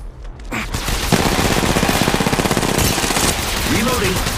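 Rapid automatic gunfire in the mobile shooter Apex Legends Mobile, loud, dense and sustained, with a steady stream of shots that swell and then continue near the listener.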